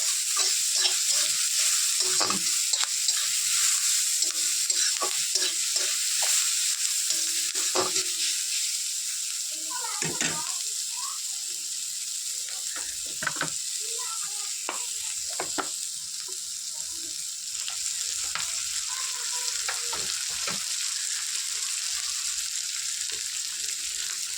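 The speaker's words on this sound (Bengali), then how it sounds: "মাছের তেলে পেঁয়াজ, 3টে কাঁচা লঙ্কা, 5 ফোড়ন দিয়ে দিয়েছি" Onion, green chillies and five-spice seeds fry in fish oil in a pan, giving a steady close sizzle broken by occasional scraping stirs.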